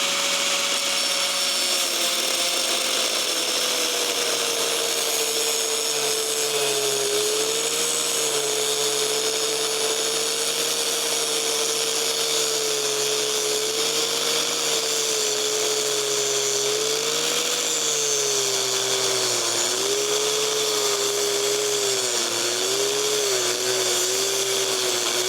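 A power tool cuts through a cheap steel spark plug socket, a continuous high whining grind with a slowly wavering pitch, loud and close for the full duration with no talk.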